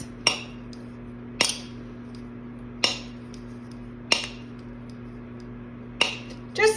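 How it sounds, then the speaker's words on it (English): Knife blade whacking the metal lid of a basil pesto jar, five sharp clinking taps spaced about a second apart, close and distinct over a low steady hum. "I'm just going to use my knife and give it a couple whacks"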